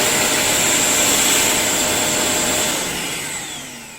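A Vacmaster VQ1220PFC-03 wet and dry industrial vacuum cleaner runs with a loud, close, steady whine and roar that fades a little toward the end.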